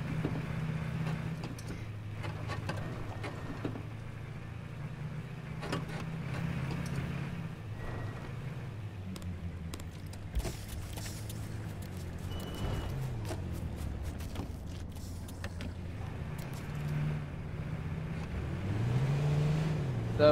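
A Jeep engine in the H1Z1 battle royale video game drones steadily at mid pitch, rising and falling as it revs and shifts while driving, with occasional clicks and knocks over the top.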